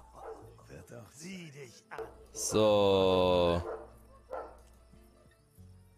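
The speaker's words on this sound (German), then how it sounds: "bei mir bellen gerade eben die Hunde. Das ist nicht im Spiel." Neighbours' dogs bark nearby, one burst swelling into a loud, drawn-out yowling bark for about a second, while someone talks before and after it.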